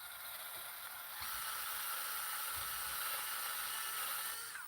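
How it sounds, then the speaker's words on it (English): Steady broadband scraping hiss of a wire brush scouring rust from steel anchor bolts on a container home foundation, continuous and close for the whole stretch, growing a little louder after the first second, with no talk. "here we are, wire brushing off rust from the anchor bolts."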